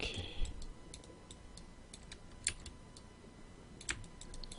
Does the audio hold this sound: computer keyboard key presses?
yes